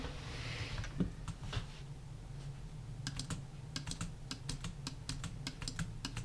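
Rapid sharp clicks of a computer keyboard, a burst of key taps repeated in a quick run during a speed bridge session in a game, close and clear over a low steady background hum.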